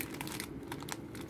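Plastic packaging wrap on a car dashboard anti-slip mat pad being torn and crinkled open by hand, a close, steady crackling rustle with bursts of sharper crinkles throughout.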